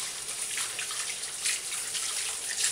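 Water running steadily from a bath tap while a dog is rinsed, a continuous close splashing hiss with small surges and no voices.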